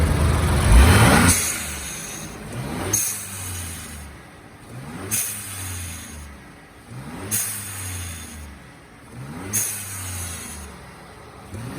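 A Ford Raptor V6 turbo petrol engine fitted with an HKS blow-off valve and a titanium exhaust revs hard once, then gives four evenly spaced blips, each ending in a sharp hiss of released boost. The sound is close and loud.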